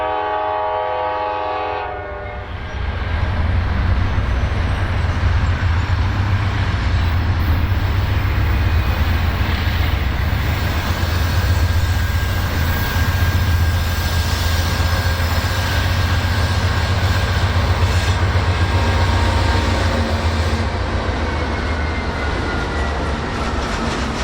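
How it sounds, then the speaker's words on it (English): A Norfolk Southern autorack freight train led by Dash-9 locomotives heads toward Atlanta near Austell. A brief horn opens, then a loud, steady rumble and rattle of the passing cars fills the rest, close by and continuous. "we saw an Autorack train making its way toward Atlanta, also being led by 2-9s"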